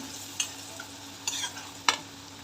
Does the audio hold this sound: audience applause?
no